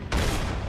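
A single loud gunshot from the video game Gears of War 3 booms out abruptly and rings on with a dense, sustained blast tail.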